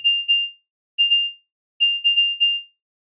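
Electronic telegraph tones spell J, A, Y in Morse code: clean high-pitched beeps of short and long lengths, grouped into three letters with silent gaps between them.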